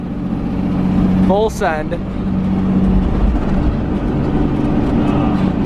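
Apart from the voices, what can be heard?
project car engine driving at 35 miles per hour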